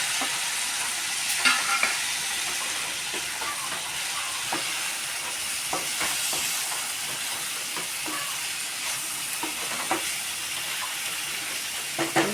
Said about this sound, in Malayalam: ഇതിലേക്ക് നമ്മൾ രണ്ടായിട്ട് കീറി വെച്ച ചക്ക ഇട്ട് വഴറ്റി കൊടുക്കണം.